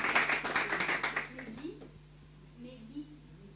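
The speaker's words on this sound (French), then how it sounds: "On l'applaudit" A church congregation applauds a first-time visitor, a burst of brisk, rhythmic clapping that fills the room for over a second, then fades out, leaving quiet murmuring voices.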